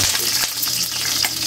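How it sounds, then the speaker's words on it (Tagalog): Chopped garlic sautés in a hot pan as the base for a grilled squid dish, giving a steady, close, broadband sizzle with small crackles throughout and no talking. "lalagay na natin yung bawang natin. Gigisayin na natin ito"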